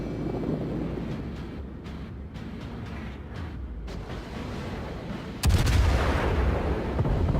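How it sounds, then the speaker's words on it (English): Naval guns in World of Warships firing HE shells, heavy booming salvos over a constant rumbling engine and wind bed, with one loud blast in the final seconds. "Just pepper this guy with HE, set him on fire"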